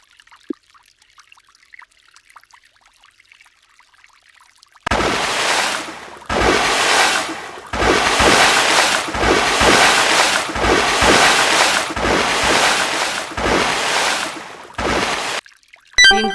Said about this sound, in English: Wash 6 heads of lettuce in water and place them in the empty bowl on the left.